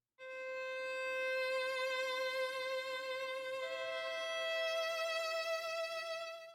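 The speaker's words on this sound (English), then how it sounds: "I'm gonna find some splice samples of violins" Sustained violin sample tones from Splice, played as clean, bright held notes, one long note sliding to a higher pitch midway, quiet and alone.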